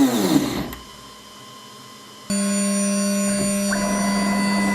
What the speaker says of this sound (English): Okay, the spindle's on